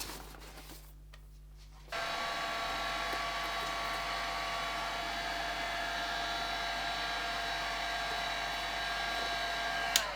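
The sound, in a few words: heat gun heating inside of foam crown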